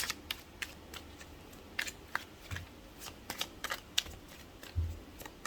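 Tarot cards being shuffled by hand, a faint series of soft riffles and crisp little snaps in an irregular rhythm, with no talking.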